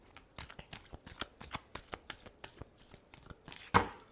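Tarot cards are shuffled up close, with a quiet, rhythmic series of soft slaps and riffles that ends in one sharper snap.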